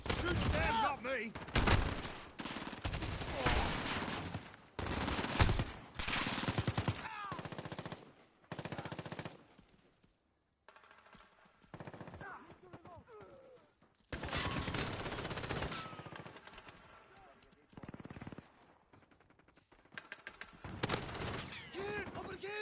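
Bursts of automatic gunfire in the shooter video game Modern Warfare, firing in loud repeated volleys separated by short lulls, with voices calling out now and then in between.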